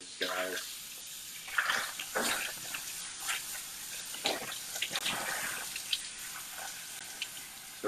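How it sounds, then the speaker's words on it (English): Water splashes and runs over bok choy rinsing in a colander, a fairly faint, uneven stream of trickles and spatters with occasional louder gushes. "we're gonna rinse them over twice because there really is just a lot of dirt in these guys"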